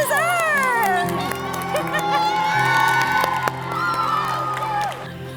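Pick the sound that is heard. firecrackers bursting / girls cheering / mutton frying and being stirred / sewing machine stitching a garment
girls cheering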